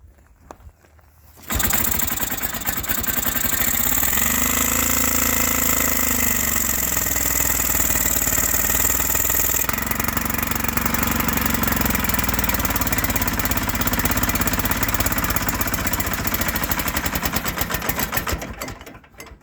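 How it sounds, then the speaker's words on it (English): A 1949 Johnson PO15 22 hp outboard motor cranks and fires after a short quiet start, then runs with a loud, continuous, rapid buzzing drone close by that slightly shifts in pitch before cutting off near the end. "as soon as it cranked, take the choke back off after it settles down and warms just a little"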